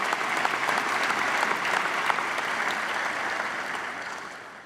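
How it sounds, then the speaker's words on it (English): Guests at the Freedom House annual awards and 85th anniversary celebration give the board a full round of applause, thick, steady clapping that gradually thins and fades near the end. "Please join me in a round of applause for the board."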